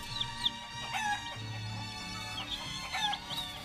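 A human voice imitates a chicken, giving a string of short clucking bursts at an uneven rhythm against a steady low background hum.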